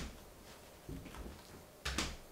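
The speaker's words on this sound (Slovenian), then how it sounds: "Slišati se mora ta zvok od gume, da je res vse posod, oziroma od tesnila" Refrigerator door closing, its rubber seal pressing against the frame, giving two soft dull thumps about a second apart over a steady low background.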